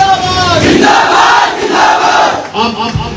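A large crowd at a by-election rally for Chandra Shekhar roars and chants slogans in unison, loud and close. The shouts come in sustained, rising waves.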